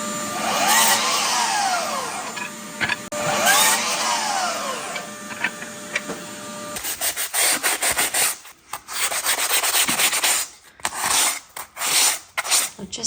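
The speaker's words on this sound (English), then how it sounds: "Just some touch-up sanding to get the little hairs off." Touch-up sanding on a vinyl record to remove small hairs, a steady rough rubbing at close range that shifts into choppier, broken scraping strokes partway through, with no talk.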